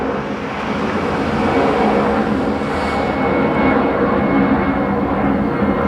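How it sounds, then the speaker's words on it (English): Airplanes pass overhead near an airport, a loud, steady broadband roar of aircraft engines that fills the whole stretch without a break and swells slightly as they go over. "Sorry, airplanes going over."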